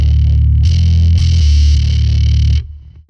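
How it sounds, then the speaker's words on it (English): Heavily distorted electric guitar chord ringing out loud and sustained, with a couple of restrikes, then cutting off abruptly near the end, no voices. "Let me see if I turn off the distortion."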